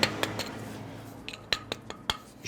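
A gradine claw chisel roughs out stone during ornamental sculpture restoration at Reims cathedral, sharp metallic taps striking at an irregular pace, some loud and near, others lighter, with no talk.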